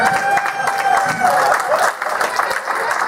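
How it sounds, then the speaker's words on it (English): A convention crowd at a panel-game event applauds the winning round: a loud, continuous patter of clapping from a full room, with a voice or two faintly mixed in underneath. "Big round of applause for match game."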